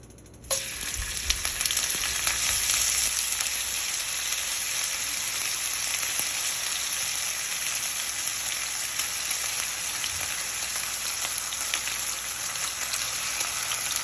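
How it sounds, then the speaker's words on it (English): A single piece of turkey bacon sizzles in very hot avocado oil in a pan. The frying is loud, close and steady, with fine crackling and spatters, and no one speaks. "Looks like it's sizzling up pretty well."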